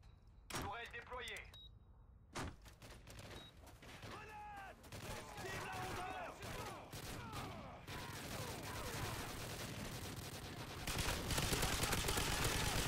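Rapid automatic turret fire in a wave-based survival video game on the Interchange map, dense bursts of gunfire and impacts layered with excited talk from players throughout.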